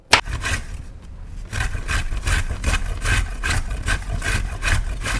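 Carrots rubbed against a large hand grater, heard as steady, rhythmic rasping scrapes, close and fairly loud, about two strokes per second repeating without a break after a brief pause at the start.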